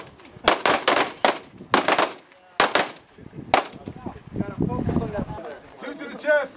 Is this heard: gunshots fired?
yes